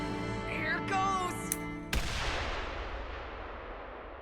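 A single sharp gunshot cracks out in an anime scene, cutting off an earlier shrill, wavering tone, then rings away into a long fading reverberant tail with no voices.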